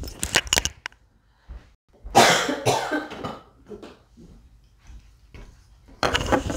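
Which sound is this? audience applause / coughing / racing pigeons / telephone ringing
coughing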